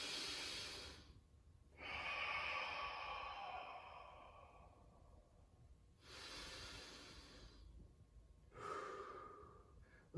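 Slow, deep yoga breaths during a beginner flow session, long airy inhales and exhales close to the ear, each lasting a few seconds with quiet pauses between, no talking.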